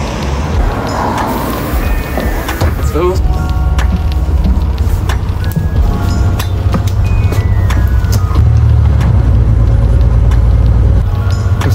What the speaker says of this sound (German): Der Bus kommt.